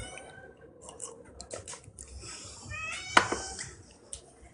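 A house cat makes short, soft meows and small rustling, handling sounds close by at low volume, against a quiet indoor background.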